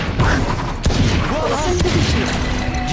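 A grenade goes off in a Valorant match, a loud sharp blast with crackling gunfire around it, while a player shouts over the action.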